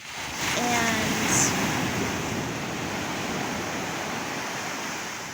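Ocean surf breaks on a beach at Playa Hermosa, a steady broad wash of waves with some wind noise and a brief voice near the start.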